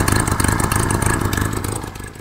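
A Citroen 2CV engine runs steadily with a bad exhaust blow at the downpipe, giving a loud, close, rhythmic chuffing clatter over a continuous mid-pitched idle for a couple of seconds, with no one speaking.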